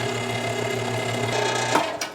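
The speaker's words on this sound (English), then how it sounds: "I love this gigantic meat grinder. It makes such quick work." A large, heavy-duty meat grinder works brisket through a 10mm die on a second pass, giving a steady, close motor whine with a constant hum and a brief clunk near the end.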